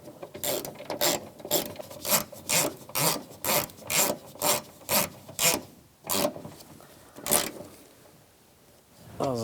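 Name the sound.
tightening bolts on a Toyota Prius rear door check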